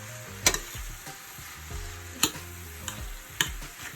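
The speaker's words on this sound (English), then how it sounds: "I'm just going to go ahead and mix all that in together." A salt fish mixture is stirred in a frying pan, giving a soft continuous sizzle broken by a few sharp scrapes and clicks of the spoon against the pan, close and without talk.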